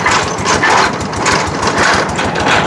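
An engine-powered drill bores into hard, compacted ground, its steady loud motor drone and rattling churn running without pause, close by.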